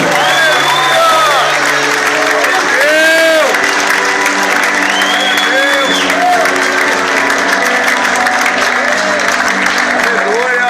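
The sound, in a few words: church congregation applauding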